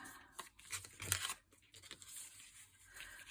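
Paper ripped by hand during a scrap collage craft session, giving several close, crisp tearing and crinkling bursts in quick succession with no talk.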